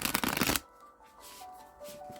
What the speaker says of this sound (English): let me give this a couple of quick shuffles